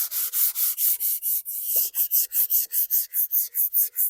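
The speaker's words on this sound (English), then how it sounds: "take some 220 sandpaper" Fine 220-grit sandpaper is rubbed over a painted piece to flatten raised spots, making rapid, evenly paced scratchy strokes, about four or five per second, close up and alone.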